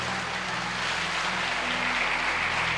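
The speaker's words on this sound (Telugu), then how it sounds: "త్రివేణి గట్టిగా క్లాప్స్ గట్టిగా ఒకసారి త్రివేణికి" Steady, dense clapping from a college audience after a motivational speech fills the whole stretch at an even loudness.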